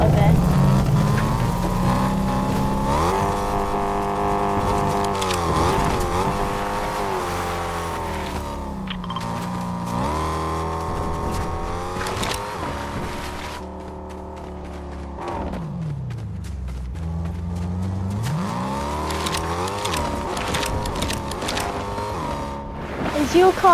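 A car engine in Fortnite drones and revs through shifting pitch sweeps, steady and close, while players talk over it the whole time.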